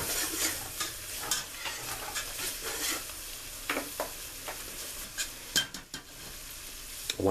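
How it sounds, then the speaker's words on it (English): Vegetables sauté in a pot for a seafood gumbo with shrimp, crab meat and okra, giving a steady soft sizzle broken by scattered clicks and scrapes of a stirring utensil, with no talking. "I'm going to let my vegetables saute about 3 minutes"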